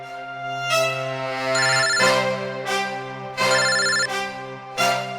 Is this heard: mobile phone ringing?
yes